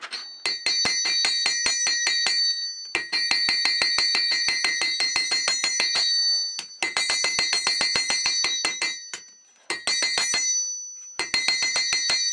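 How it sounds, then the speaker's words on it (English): Hammer striking the edge of a steel knife blade during forging, a rapid series of bright ringing metallic blows in bursts separated by short pauses, close and loud. "Simply by hammering the edge, it will bring the point back to where I want it."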